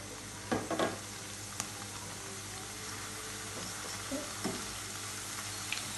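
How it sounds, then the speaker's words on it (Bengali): Nimki frying in hot oil gives a steady, soft sizzle throughout, broken by a few light clinks and taps near the start and later, close and quiet with no one speaking. "তেলটা গরম হয়ে গেছে, আমি এখন নিমকিগুলি দিয়ে দিব।"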